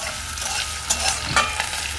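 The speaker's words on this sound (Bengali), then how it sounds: "এরকম করে মশলাটা খুব সুন্দর করে কষে নেব।" Onion with ginger and garlic frying in a pan sizzles close by as a utensil stirs it, with a few scraping strokes over a steady crackle.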